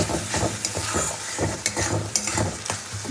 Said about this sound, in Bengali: মশলাটা ভালো করে কষিয়ে নিয়ে মশলার বাটি ধোয়া এক বাটি জল দিয়ে দেবো আমি